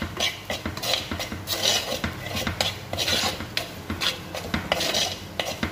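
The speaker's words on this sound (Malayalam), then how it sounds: "3/2 ടേബിൾ സ്പൂൺ മുളക് പൊടി. 1 മിനിറ്റ് ഒന്ന് വഴറ്റുക" A spoon stirs and scrapes chili powder in a pan on the stove, with rapid repeated metallic scraping and clinks, close and continuous with no talk.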